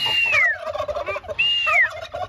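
A turkey gobbles twice in quick succession, close and clear, each call a rapid warbling burst with no other sound around it.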